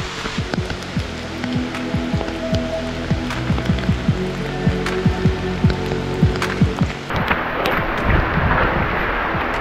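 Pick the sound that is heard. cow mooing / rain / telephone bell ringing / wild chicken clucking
rain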